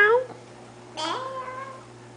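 A small child imitates a cat's meow on a farm, one short drawn-out meow voiced at close range after a brief adult prompt.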